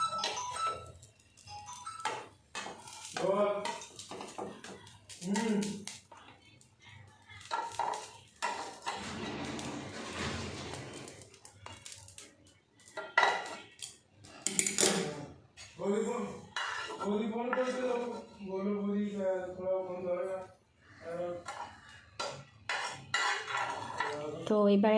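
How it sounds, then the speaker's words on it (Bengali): A kadai set down on a stove among clattering pots and pans, with metallic clanks and ringing scrapes between stretches of talk, close by. "এবার একটা কড়াই বসিয়ে দিলাম।"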